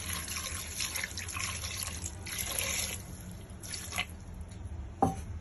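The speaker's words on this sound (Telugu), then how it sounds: "వాటర్ పోసుకోవాలి" Water trickles and splashes steadily into a cooking pot holding salt and turmeric, with a brief sharper splash near the end; no voices.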